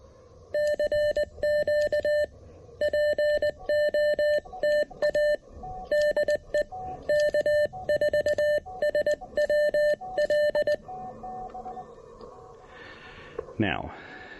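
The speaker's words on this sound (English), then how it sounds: "I had to have this turned up so I have a side tone so I can hear what I'm doing" Keyed CW sidetone from an Elecraft KX1 radio in use outdoors at a park activation: bursts of steady, clear Morse beeps in rhythmic groups, fairly loud and close, ending with a brief scrape.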